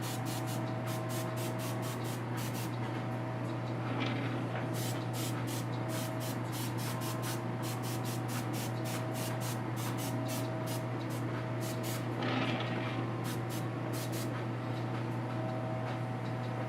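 Aerosol spray cans hiss in repeated short bursts onto a painted figure, likely Testor's dull coat, a rhythmic series of close puffs over a steady low hum.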